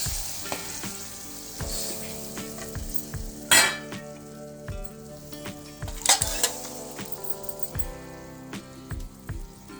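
Boiled colocasia leaves for aluchi fadfad, cooked with steamed peanuts and val beans, sizzle in a pan while being stirred, with a steady frying hiss, repeated scraping and clatter, and a couple of sharper clanks, without talk.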